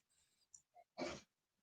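Quiet breathy intake sounds lead into one short, forceful sneeze close to the microphone, followed by silence.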